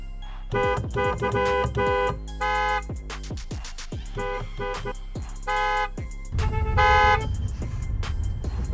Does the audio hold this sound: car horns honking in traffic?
yes